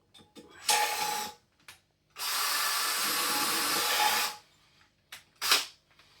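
A power drill fitted with a bigger bit whines in short bursts, then runs steadily for about two seconds before a final quick burst, close and loud.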